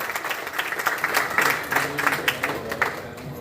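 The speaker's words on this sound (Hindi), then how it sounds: "आप अपनी भरपूर तालियों में हमें बताइएगा।" A poetry recital audience applauds a poet, dense steady clapping from many hands carrying through the whole stretch at moderate distance, with faint voices mixed in.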